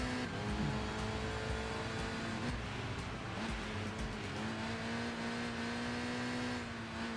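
Subaru touring car engine in the racing game Enthusia Professional Racing, a steady loud drone with a sustained tone that climbs and holds through the run, continuous and close, with no talk over it.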